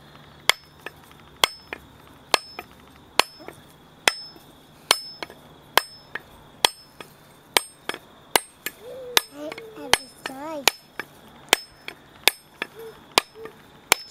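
A hammer strikes a coconut shell in slow, steady blows, about fifteen sharp knocks spaced roughly a second apart, close and loud, with a voice speaking briefly under the strikes midway.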